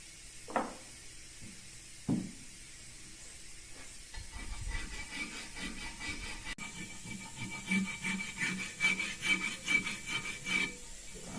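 Steady scraping of a rasp across alabaster, with a couple of sharp knocks early and rhythmic rubbing strokes growing stronger toward the end.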